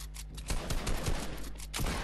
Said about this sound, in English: I just missed that pump shot